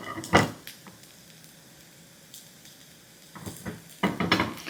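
A thin ghavan rice crepe roasts on a hot griddle with a soft, faint sizzle, broken by a few scraping and clattering bursts at the start and near the end.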